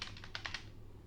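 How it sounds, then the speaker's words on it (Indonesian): A website address being typed on a computer keyboard: about half a dozen quick, crisp keystrokes clatter in a short burst, then fall quiet, close and alone in a quiet room. "selanjutnya adalah silahkan ketikkan alamat websitenya"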